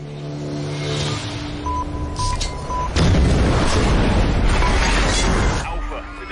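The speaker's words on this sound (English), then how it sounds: "Alpha, the device has detonated. All call signs, I repeat, the device has detonated." A bomb detonates in an action film, a sudden heavy boom with a broad rumbling blast that follows a tense stretch with a steady electronic tone and dialogue.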